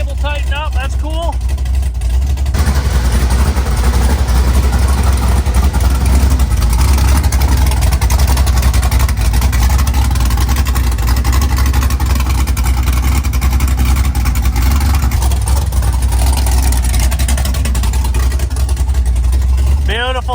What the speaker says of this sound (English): having it fire right up and sound like that after sitting for a couple months